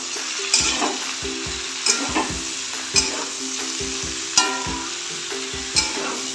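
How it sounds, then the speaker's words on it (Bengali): Winter vegetables fry in a pan with chopped tomato and green chili, a steady close sizzle broken by a spatula scraping and stirring roughly once a second. "আর একটু ভাজা হতে হতে এর মধ্যে আমি টমেটো আর কাঁচা লঙ্কা কুচি দিয়ে দিলাম।"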